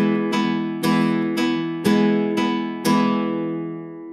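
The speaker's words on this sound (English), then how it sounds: "in the right hand, we play rasgueado with only one finger, index finger" A flamenco guitar is strummed rasgueado-style with the index finger on a Malaguena. Six strong, ringing chord strokes come at an even pace, each one loud and close and left to decay, with the last ringing out.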